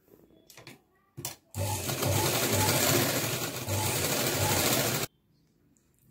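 A sewing machine stitches satin frock fabric with a lining laid on its right side, a steady loud whirring run of about three and a half seconds after a couple of short bursts, then stopping.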